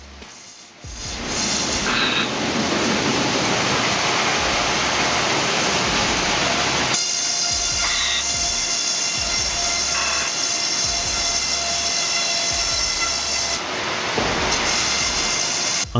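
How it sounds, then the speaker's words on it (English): A steam-powered sawmill bandsaw, its steel band over 50 feet long running on giant wheels, cuts through a log with a loud, continuous broadband roar that shifts in tone about a third and again near the end. "The more than 50-foot long steel band begins to glide continuously over giant wheels."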